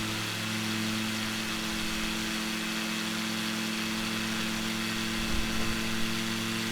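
The engine of an Icon A5 amphibious plane runs at a steady mid-pitched drone, loud and continuous throughout with no voices.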